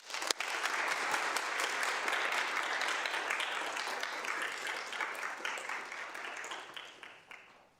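An audience in a lecture hall applauds to welcome Cardinal Pierre, a sustained wash of clapping from many hands that holds steady for several seconds before tapering off.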